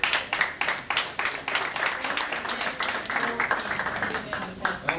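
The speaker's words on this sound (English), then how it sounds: "So give yourself a round of applause." Audience applause at the close of a presentation, steady clapping from a modest crowd running the whole stretch, with some voices beneath.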